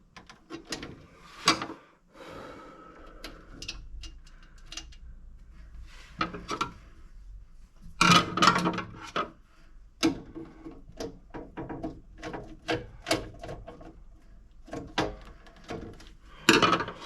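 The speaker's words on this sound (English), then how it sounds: "So we'll go ahead and get these tightened back down and move on with what we're doing here." Small metal screws on motor control center wiring are driven down one after another, giving scattered clicks and ratcheting ticks of a hand tool, close and fairly quiet, with no voices.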